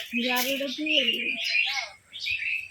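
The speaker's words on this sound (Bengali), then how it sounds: "ঘুঘু পাখি ডাকতেছে ঘুঘু পাখি" Doves coo and call repeatedly close by, with voices talking over much of the clip.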